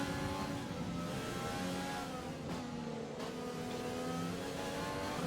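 Formula 1 race cars in the F1 2020 video game roar through a hairpin near a Renault and a Racing Point battling, with engines droning continuously and pitch shifting as they brake and accelerate.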